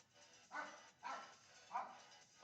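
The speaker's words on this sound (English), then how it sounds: "There go my dogs." Three distinct dog barks ring out at a steady half-second spacing, fairly close and moderately loud, with short gaps of quiet room tone between them.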